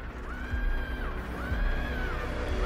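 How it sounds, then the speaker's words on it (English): Screaming from an album, long rising and falling wailing vocal cries over dense, loud music, repeating twice. "I hear screaming."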